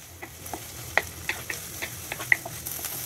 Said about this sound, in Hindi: अब इन्हें हम फ्राई करेंगे।